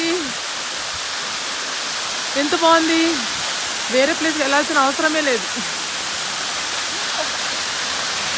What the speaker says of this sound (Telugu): చూడండి, మా రెసార్ట్లోనే ఈ వాటర్ ఫాల్స్ ఉంది.